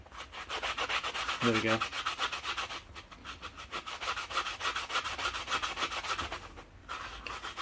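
Fine-grit sandpaper rubbed by hand over a workpiece for a scratch-built flashlight, giving steady rapid back-and-forth scratchy strokes, close and fairly loud, with a brief low tonal noise near the start and a few quiet spoken words.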